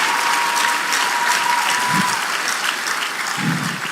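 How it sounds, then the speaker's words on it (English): Church audience at Daystar Christian Centre gives continuous, full applause for a woman who just spoke, a thick, even patter of many hands with a couple of low thumps partway through. "Mona putting our hands together for Miss Folake that just spoke"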